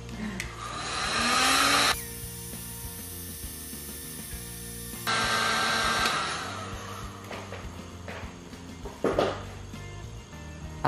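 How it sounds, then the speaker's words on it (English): Heat gun blowing hot air over a small clay vase made on a mini pottery wheel, a steady loud rushing whoosh that cuts in abruptly for a few seconds, with light handling clatter and knocks around it. "So I use my heat gun for this and just dry it."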